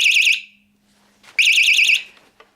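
A burglar alarm warbles loudly in two bursts split by a short pause, with faint handling clicks in the gap and after.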